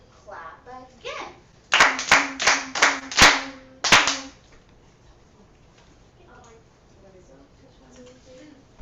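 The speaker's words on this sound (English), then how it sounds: "clap again" A teacher and children clap a rhythm together in a lesson: about six sharp, evenly spaced claps ring out loudly between stretches of spoken instruction.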